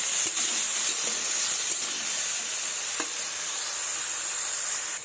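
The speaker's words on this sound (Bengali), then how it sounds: "বেগুনগুলোও ভেজে নিচ্ছি।" Pieces of eggplant flesh frying in hot oil for a mixed-vegetable chhachra, giving a steady, close sizzle with a bright hiss throughout and a few faint clicks, no voices.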